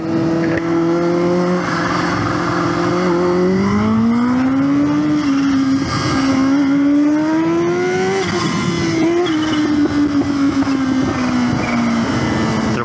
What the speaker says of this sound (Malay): Dia tarik sikit nak dengar bunyi supercharger tu